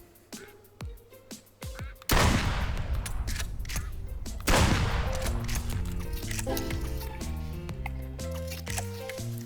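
Video game gunfire erupts in two heavy bursts of rapid shots, loud and close, with weaker single shots before and rhythmic game sounds trailing after.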